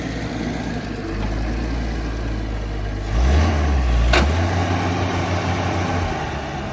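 An Allis Chalmers D19 tractor engine runs steadily at a low, heavy idle, its rumble swelling slightly louder partway through before settling again, with no talking.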